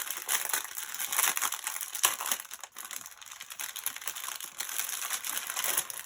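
A plastic packet with a double-folded bag is pulled open, making continuous close crinkling and crackling with bursts of sharper crumpling throughout.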